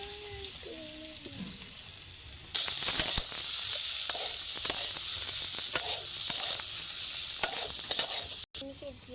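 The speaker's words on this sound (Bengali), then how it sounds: "এইবার ডুমো ডুমো করে রাখা আলু দিয়ে দেব কড়াইতে।" Diced potatoes hit a hot kadai after ginger and garlic, bursting into a loud, continuous sizzle with scraping stirs and clatters on top, following a brief quieter stretch at the start.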